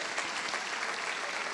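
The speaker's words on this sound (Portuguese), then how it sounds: "Você pode aplaudir o Senhor por isso?" Church congregation applauding together, a steady dense wash of clapping that fills the whole short moment without a break, with no voices standing out above it.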